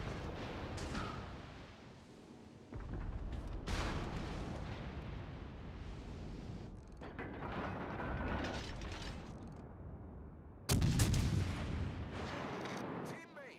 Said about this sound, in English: Not every day you get to shoot all 4 turrets on a Vanguard